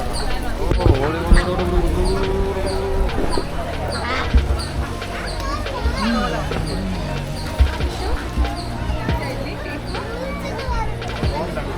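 Ducks quack and call in short bursts at a flower show in Cubbon Park, Bengaluru, heard close amid a crowd's chatter and scattered thumps.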